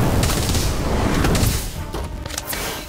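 Incendio fire spell cast in the Harry Potter: Magic Awakened video game, a loud, dense roaring burst of magical fire with crackling blasts through the first half, easing into scattered softer pops and hisses before a final sharp hit.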